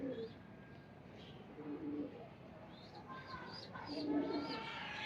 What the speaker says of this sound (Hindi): ये जबरदस्त कबूतर है